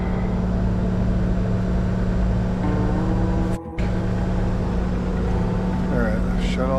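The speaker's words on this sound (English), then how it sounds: "let this idle down a little bit" A farm engine idles steadily, a loud continuous drone with a strong low hum that runs throughout, dropping out briefly for a moment partway through before resuming.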